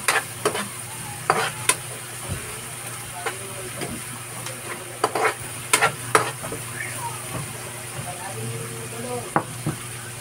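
Small sun-dried salted shrimp (hibi) stirred and fried in a pan, a steady sizzle broken by repeated scraping and clattering strokes of a utensil, close and moderately loud, with a low hum underneath.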